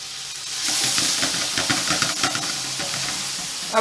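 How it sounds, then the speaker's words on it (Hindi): Cauliflower and mutton fry in a pan with ground red masala, crushed coriander and turmeric, giving a steady close sizzle and hiss broken by scraping stirs. "अब अच्छे से इन सब चीज़ों को, गोभी को अच्छे से फ्राई करें आप।"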